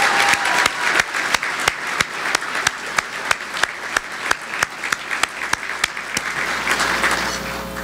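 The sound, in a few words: round of applause for sailors and spouses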